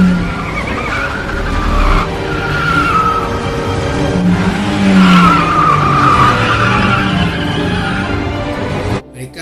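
A car skids during a movie chase scene, with long rising and falling tire squeals and engine roar, loud and close, continuing for several seconds before cutting off abruptly.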